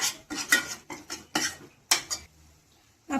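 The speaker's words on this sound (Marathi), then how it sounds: "छान तेल सुटेपर्यंत मसाला आपल्याला परतून घ्यायचा आहे" Masala is stirred and sautéed in a pan, with a series of sharp metal spoon scrapes and clinks against the pan, close and irregular, alongside a faint sizzle.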